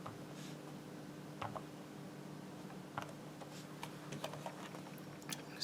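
Small plastic keys on a Brother P-Touch H105 label maker tapped in scattered, quiet clicks, a few keystrokes at a time over a faint hum.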